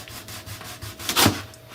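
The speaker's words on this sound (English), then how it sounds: "What you're going to do, you're going to slice them open" A knife slices open a passion fruit: a close, soft rubbing cut that swells to a brief louder crunch near the end.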